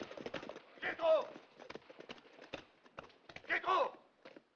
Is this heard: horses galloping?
yes